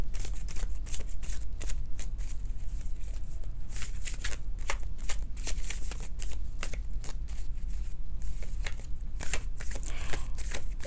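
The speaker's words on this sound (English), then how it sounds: "I'm going to pull a couple more cards" Tarot cards are shuffled and pulled from a deck in a steady run of close, crisp riffling and flicking, with rapid papery slaps continuing throughout.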